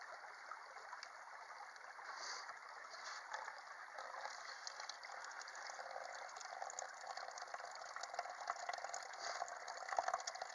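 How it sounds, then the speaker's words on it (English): A low-power bilge pump draws clear creek water and sends it into a filter system, giving a steady, continuous rush and gurgle with a faint mechanical whir, close and even throughout with no talk. "So there's the water pumping out of the, directly out of the creek."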